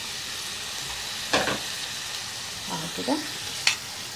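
Onion, tomato, olives and peppers hit hot oil for a Spanish omelette, giving a steady, soft sizzle throughout, with a brief spoken remark and a few stirring clatters on top.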